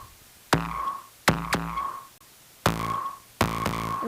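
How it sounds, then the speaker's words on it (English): A distorted kick drum from a DM2 drum machine thumps five times in an uneven pattern, each hit punchy and gritty with a ringing, decaying tail, alone and fairly quiet. "I've got a kind of a distorted sounding kick"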